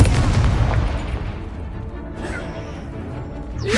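Incendio fire spell cast in Hogwarts Legacy: a loud, rumbling burst of flame that roars at the start and slowly fades into a low crackle, with a faint whoosh at the end.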